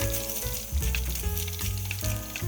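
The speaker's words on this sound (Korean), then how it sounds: "으깨 놓았던 햄을 먼저 넣고 볶아주세요" Mashed ham fries in three spoonfuls of heated oil in a pan, a steady close sizzle with crackling pops, with a low hum running underneath.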